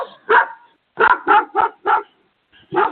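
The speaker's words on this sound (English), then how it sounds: "Hold on, there's a dog out here." Dogs barking in a dog fight outdoors, a burst of sharp barks followed by a rapid run of four loud, close barks and one more bark after a pause, with no talking.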